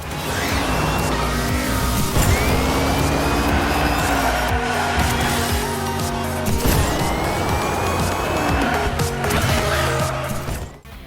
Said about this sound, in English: Hot Wheels Unleashed 2 is, at its core, the same drift-heavy arcade racer like the original